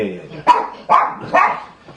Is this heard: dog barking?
yes